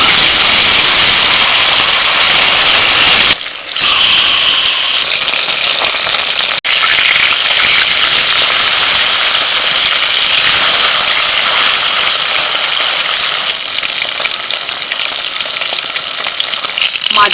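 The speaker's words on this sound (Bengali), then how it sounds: "এবার একে একে মাছ ভেজে নেব" Small Japanese puti fish frying in hot oil, a loud, steady, close sizzle that runs unbroken apart from a brief dip early on.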